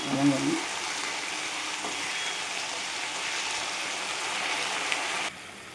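A steady hiss of tomatoes and curry leaves sautéing in a pan fills the clip, dense and even throughout, with a brief clatter at the start before it cuts off near the end.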